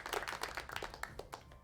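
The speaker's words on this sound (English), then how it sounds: "Well, I will formally give you some applause." Faint applause emote from the video game Dark Age of Camelot, a short patter of clapping that sounds slightly doubled, quiet over a soft background.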